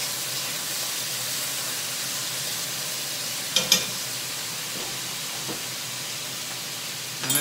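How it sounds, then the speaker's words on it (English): Steady, loud sizzling of chicken frying in a pan for a green Thai curry, with a couple of brief scraping knocks as it's stirred, close and continuous. "so my chicken is frying"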